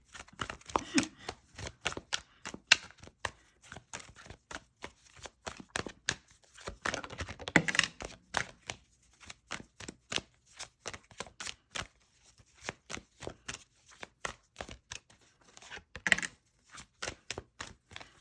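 Tarot cards are shuffled close by, producing rapid irregular flicks and soft slapping riffles in quick clusters, fairly quiet and with no voices over them.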